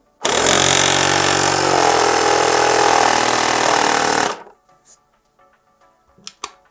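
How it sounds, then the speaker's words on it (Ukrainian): An Aspiring Airflow 1 car air compressor (150 psi, 35 L/min) runs loudly and steadily for about four seconds, then cuts off automatically at set pressure, leaving faint clicks and handling noises. "давайте послухаємо, як буде працювати компресор"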